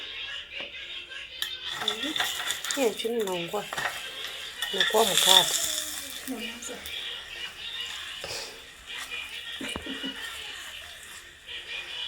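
Soft chapattis frying with oil on a hot pan, a low continuous sizzle with clinks and scrapes of a utensil against the pan, as someone talks over part of it.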